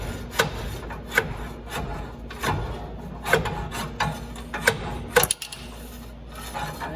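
Worn inner axle seal being pried out of a sand-eaten mid-80s Dana 44 axle with center disconnect: a series of sharp scraping clicks and metallic ticks over a low steady hum, ending in a louder cluster as it comes free.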